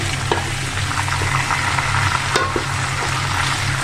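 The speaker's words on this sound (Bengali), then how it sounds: "যে দেখেন রোস্টের পিসগুলো কিন্তু ভাজা হয়ে গেছে" Roast chicken pieces frying in oil in a home kitchen pan, a steady close crackling sizzle with occasional sharper pops and light utensil stirring, no talk.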